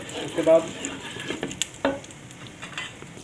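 Garlic ginger paste frying for white mutton korma, a soft low sizzle with a few spoon scrapes and clinks against the pot, fairly quiet and close.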